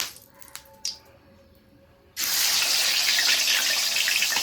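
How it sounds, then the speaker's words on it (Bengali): Fish heads rubbed with salt and turmeric hit hot oil one at a time, a few small clinks and drips first, then a sudden loud, steady sizzle that fills the rest. "তেল গরম হয়ে এসেছে, তো আমি একটা একটা করে দিয়ে ভেজে নেব"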